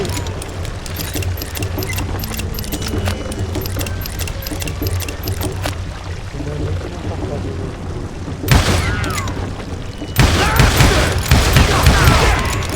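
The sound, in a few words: gunfire in the video game Call of Juarez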